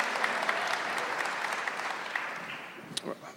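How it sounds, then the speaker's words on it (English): Audience at a Poor People's Campaign forum in Washington DC claps in a steady burst of applause that gradually thins out toward the end, with a voice briefly heard as it fades. "That question deserves applause."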